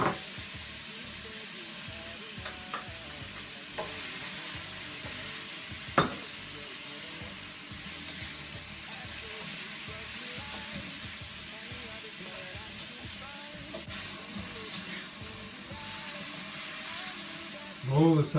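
Onions and mushrooms frying in a pan give a steady, quiet sizzle with occasional stirring scrapes and a sharp clack near the middle, while a low murmur of voices sits faintly underneath.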